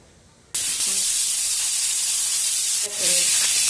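Grated ash gourd tipped into hot ghee in a pan bursts into a loud, sustained sizzle that jumps up again near the end as more hits the fat, with no talk.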